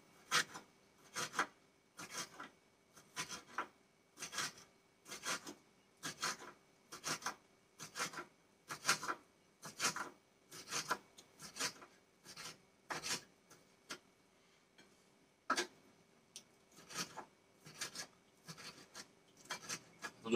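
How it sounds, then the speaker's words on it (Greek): A knife slicing pan-cooked chicken breast into small pieces on a board: a steady run of short, even cutting strokes with rasping edges, close and fairly quiet, with one brief pause, and no talking. "τα παίρνουμε και το κόβουμε κομματάκια."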